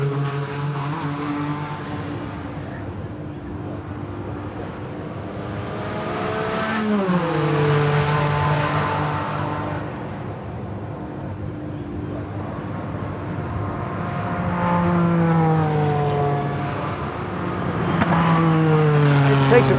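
A Porsche WSC-95 Le Mans race car driving at the Goodwood circuit, its engine revving up and down through gear changes, loud and continuous, rising and falling as it takes corners.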